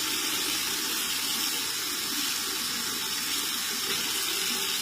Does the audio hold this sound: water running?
yes